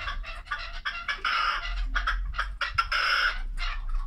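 A bird calls close and loud in a stream of repeated, clucking, squawking notes that keep going almost without pause over a low background hum.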